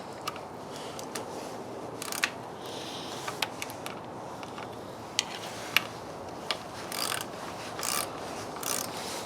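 A socket wrench ratchets as it tightens the nut on a motorcycle brake lever, giving a series of close, sharp clicks and scrapes scattered over steady background noise, with no voices.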